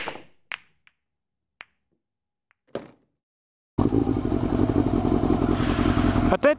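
A motorcycle engine starts up partway through and holds a loud, rough, pulsing rev, preceded by a few scattered clicks and taps in near silence.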